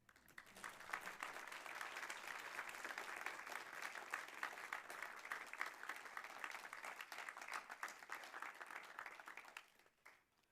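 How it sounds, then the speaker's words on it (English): Audience at a graduation ceremony applauding the graduates, a dense, fairly distant wash of many clapping hands lasting about ten seconds before fading out, with no talk over it. "Let's give the graduates an applaud."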